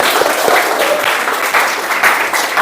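A loud, dense round of audience applause fills the room at a teacher-training session, steady clapping throughout with small surges and no voices on top.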